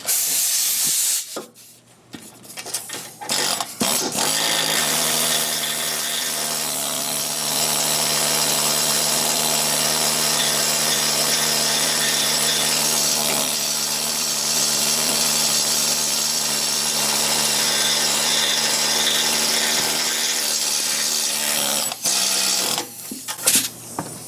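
A needle scaler hammers away at a vehicle frame, a loud, dense pneumatic rattle with a hissing buzz that starts after a few brief bursts, runs steadily for about twenty seconds, then stops in short stutters.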